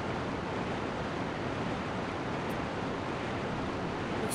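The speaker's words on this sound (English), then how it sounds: "that's just part of the game, because there's water coming down in that area" Steady waterfall rush from water pouring down in an area of the Resident Evil 2 video game, a continuous broadband hiss holding even and unbroken throughout with no other sounds on top.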